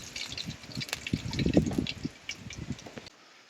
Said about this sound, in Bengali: প্রথমে দিয়ে দেবো কড়াতে সরষের তেল।